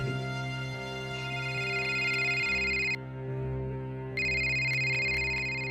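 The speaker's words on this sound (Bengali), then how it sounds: "হঠাৎ তার ফোনটা বেজে ওঠে।" A mobile phone rings in a quiet office at night, an electronic tonal ringtone repeating steadily, with a short pause before the melody resumes, loud and close with no talking.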